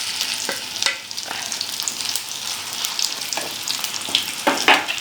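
Cauliflower gobi fry sautés in hot oil in a pan, giving a continuous crackling sizzle broken by irregular stirring scrapes and pops, with no voices.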